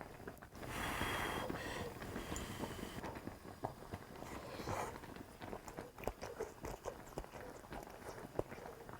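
A mushroom hotpot with shiitake and beef bulgogi is eaten up close. Soft wet chewing and biting come in an irregular rhythm with clicks, slurps and faint clatter, and no one talks.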